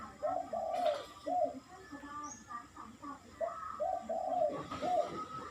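A decoy bird gives soft repeated coos in short phrases, a few calls with pauses between, fairly close and moderately quiet.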